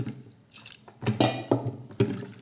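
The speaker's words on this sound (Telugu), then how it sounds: "ఉడికేంత తగినంత వాటర్ పోసుకుంటున్నాను" Water splashes and pours into a metal pressure cooker pot with dal in short gushes, close up, with a few drips and clunks in between.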